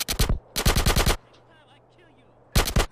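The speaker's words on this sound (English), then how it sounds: "Shoot the guy that's closest to you, Carl." Automatic gunfire in GTA San Andreas, three loud rapid bursts of shots, the first short, the second longer, then a pause before a final burst, with faint background sound between them.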